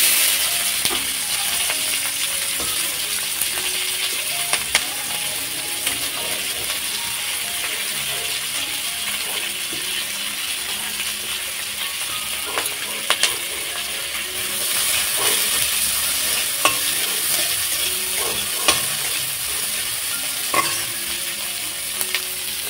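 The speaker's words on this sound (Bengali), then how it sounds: "আর এই যে মাছের তেল বানাবো, তার জন্য পেঁয়াজ লঙ্কাগুলো আমি ভেজে নিচ্ছি।" Onions and green chillies frying in hot oil in a home kitchen, a steady bright sizzle running throughout with occasional clinks and scrapes of a utensil stirring the pan, close and alone without talk.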